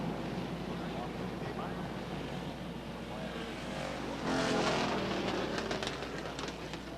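Stock cars circle Beech Ridge Motor Speedway under caution during a 1990 limited sportsman feature, a steady broadband roar of engines and wind with a louder pass swelling midway through.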